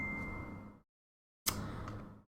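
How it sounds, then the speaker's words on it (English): A phone notification chime sounds twice in quick succession, each tone ringing out briefly before stopping. The chimes are soft and heard alone against silence. "sorry about my phone going off"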